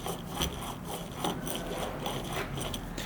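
Worn passenger-side CV axle from an E36 BMW, removed and worked by hand, giving a dry, rhythmic grinding and rubbing at low level, repeating roughly every half second.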